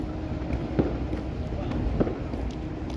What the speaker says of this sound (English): Can we see these fireworks?